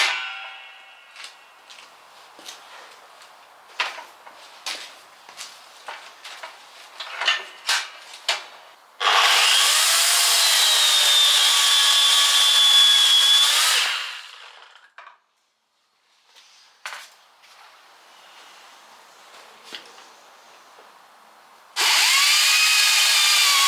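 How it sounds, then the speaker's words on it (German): Electric corded chainsaw and a 40-volt battery chainsaw cutting through a tree branch, first scattered knocks and handling clicks, then a loud high whining cut lasting several seconds, a pause, and a second whining cut starting near the end. "Dann wechseln wir jetzt mal auf die andere Seite des Astes und schneiden mit der Stromsäge gegen die 40"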